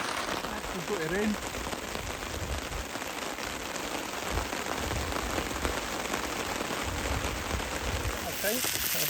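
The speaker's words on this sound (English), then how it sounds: "I've got them cooked in the barbecue in the pouring rain." Pouring rain at a wild campsite during a thunderstorm, a dense steady hiss of drops drumming on surfaces, close and constant, with a brief voice murmur under it.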